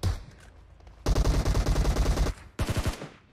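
Tommy gun fire in PUBG Mobile, a close, loud sustained burst of rapid automatic shots lasting over a second, then a brief pause and a shorter second burst.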